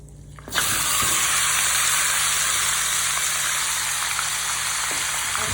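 Curry spiced with cumin, coriander and Kashmiri chilli powder hits a hot kadai with a sudden loud sizzle. The hiss then holds steady and close without voices.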